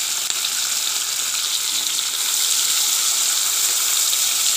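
American rohu fish fries in hot oil in a pan, giving a steady, loud, dense sizzle with little change throughout, heard close up and alone.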